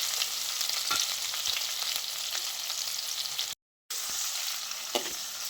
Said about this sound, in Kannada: ಇದನ್ನೀಗ ಫ್ರೈ ಮಾಡ್ಕೊಳ್ಬೇಕು.